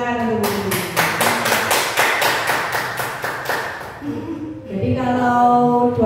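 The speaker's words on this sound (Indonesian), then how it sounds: "Tepuk tangan untuk Bu Rita." An audience at an indoor gathering clapping hands in a quick rhythmic burst of about a dozen claps that slows and fades, followed by a voice speaking.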